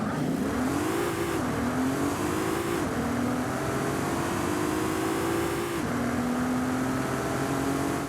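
A Bentley Flying Spur in Forza Horizon 5 revving loudly and continuously, its engine pitch climbing through gears with brief drops at each upshift, smooth and droning with no other sounds.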